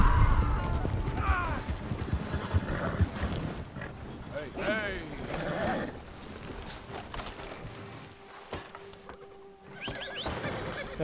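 In Red Dead Redemption 2, horse hooves clip-clop over a rolling, creaking wagon, with whinnies and someone talking over the steady clatter.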